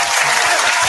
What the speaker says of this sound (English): all y'all deserve individual claps